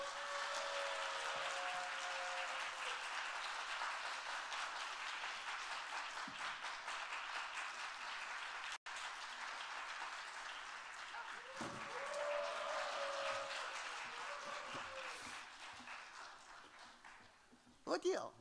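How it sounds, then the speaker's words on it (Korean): A church audience at a Christmas celebration night applauds continuously to welcome a guest. The clapping is steady and crowd-wide, runs almost the full length, and has a voice speaking over it partway through. "여러분 큰 박수로 맞이해주세요."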